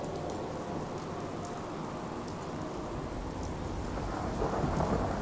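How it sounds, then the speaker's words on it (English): Heavy rain pours steadily while deep thunder rumbles underneath, with no voices, in the video game Fallout 4. "It's just raining."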